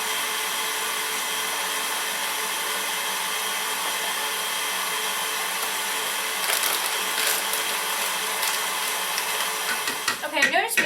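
A kitchen grinder processes whole seedless navel oranges with the peel on, giving a steady, close motor whir. Near the end, clattering and voices break in.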